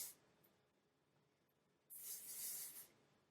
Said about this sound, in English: we're going to take this hair and we're going to spray it